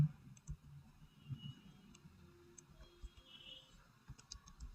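Light keyboard typing as a mobile number is entered: sparse, quiet clicks scattered over a low room hum, close by, with no voices.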